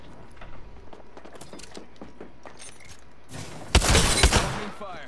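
Gunfire in the video game Apex Legends: scattered sharp game sounds give way to a loud, dense burst of shots and impacts in the final seconds, with no talking.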